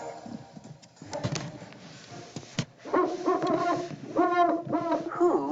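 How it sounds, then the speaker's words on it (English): An owl hoots in a series of clear, repeated low calls, growing louder and more frequent toward the end, with no talking over them. "Who is making all that noise? It's an owl."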